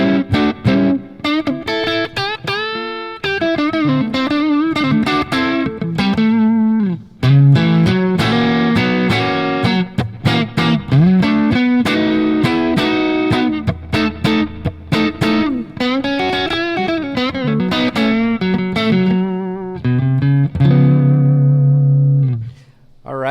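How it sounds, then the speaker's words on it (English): Vintage Stratocaster electric guitar played through a REVV D40 Dynamis amp, with gain turned fully up, giving a distorted, effects-laden tone; busy riffs and sustained chords sound close and loud throughout, alone without talk. "So some cool Strat tones coming out right there."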